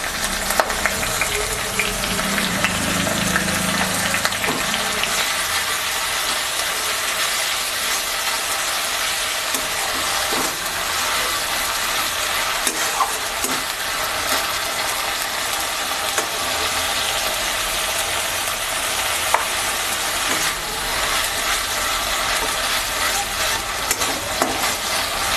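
Onion paste fries with spices in a pan for a chanda fish curry, a loud, continuous sizzle with steady stirring and scraping for about twenty-five seconds.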